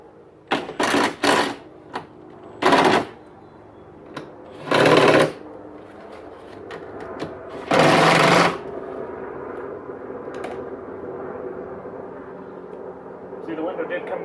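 A BMW E46 passenger power window regulator motor runs in a few short, loud whirring bursts a couple of seconds apart, followed by quieter background sound.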